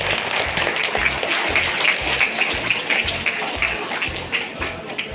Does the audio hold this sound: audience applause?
yes